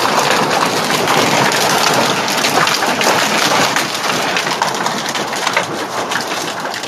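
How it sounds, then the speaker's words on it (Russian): Heavy hailstorm in Istanbul, a dense, steady roar of hailstones pelting surfaces, loud and unbroken throughout, with no voices. "На Стамбул обрушился мощный град."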